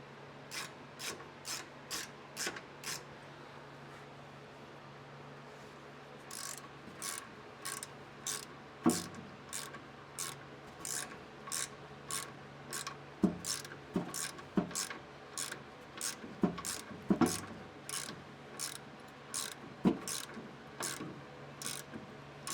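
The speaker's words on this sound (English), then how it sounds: "I'll just sneak in here and tighten these up real quick." A ratchet wrench tightens the shock absorber bolts on a Jeep, with quick bursts of crisp clicking repeated many times up close, separated by brief pauses and a few clanks.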